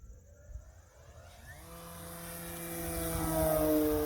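An E-flite Carbon Z Cub SS RC plane (2.1 m wingspan) flies at high throttle. Its electric motor and propeller make a steady whine that rises in pitch and grows louder over the last seconds, with no talking.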